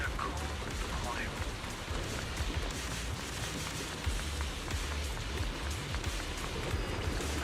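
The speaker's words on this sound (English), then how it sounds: "It wasn't heavy rain like now" Heavy rain pours steadily in the Zenless Zone Zero video game, a dense, even hiss of drops hitting surfaces that holds across the whole stretch with occasional low thumps beneath it.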